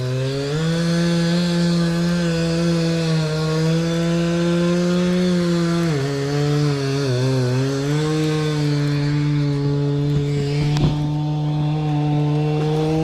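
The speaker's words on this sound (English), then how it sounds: "Sorry about the noise in the background. Little boy over here cutting a dang tree down." A chainsaw drones steadily and loudly nearby as it cuts down a tree, its engine pitch dipping and rising as it bites into wood, running continuously throughout.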